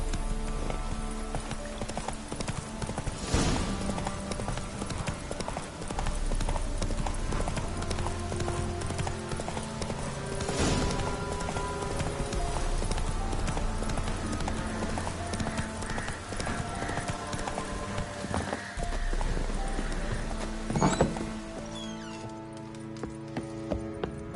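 Hooves clip-clop in a fast, steady gallop as Geralt rides a horse in the video game The Witcher 3, with occasional neighs and chinks of tack over background music, and no speech.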